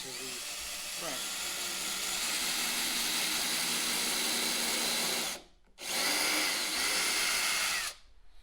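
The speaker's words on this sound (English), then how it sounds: "installed the floorboard so I can drill the holes into the frames." A power drill boring holes into the wooden frames of a small dinghy during a home build, running in long loud whining bursts with short pauses between them.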